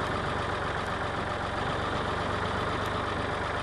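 A tractor engine runs steadily at a constant drone while soybean seed is planted, close and unchanging, with no voices.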